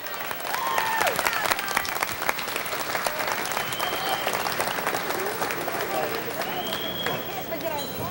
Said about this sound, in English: So a big round of applause for all of these teams for all of the hard work that they did today.